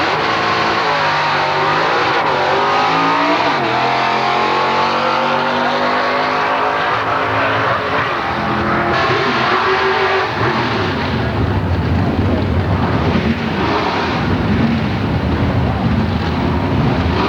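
Drag racing cars at Milan Dragway, including a Ford Roadster, rev and idle loudly in the lanes before a bracket elimination round, with steady engine drone, rising and falling revs, and wind buffeting the microphone throughout.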